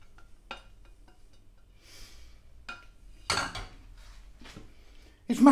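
Dishes and cutlery give scattered light clinks and knocks as something goes into a bowl, then a couple of louder, closer clattering bursts, with no talking.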